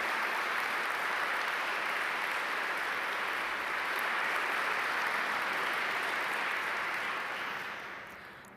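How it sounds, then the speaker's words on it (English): Graduating students at the 2021 Duke Law commencement applaud in a steady, even wash of clapping that sounds somewhat distant, holding for several seconds before tapering off at the end. "I'd like to ask our graduating students to applaud to show your appreciation to those people whose love and support have helped you reach this milestone"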